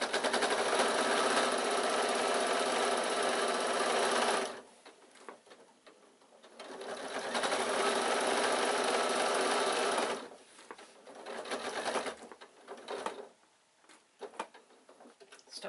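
A sewing machine stitches across the bottom of a fabric bag in several bursts, running fast and steady, pausing with the needle down, then starting again, close and loud.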